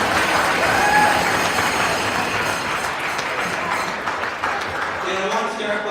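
A crowd applauds parent volunteers at a youth sports team event, broad steady clapping filling the room for several seconds with some voices mixed in.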